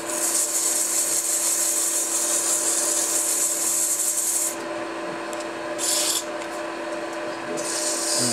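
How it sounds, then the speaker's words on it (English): Steady sanding of a wooden cigar ashtray with a power tool, a continuous close rasping whine that briefly eases and drops in level midway before resuming. "You didn't come here to watch me sand, that's for sure."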